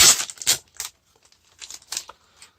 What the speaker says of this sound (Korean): 먼저 개봉 영상 올려보도록 하겠습니다. 첫 번째 팩입니다.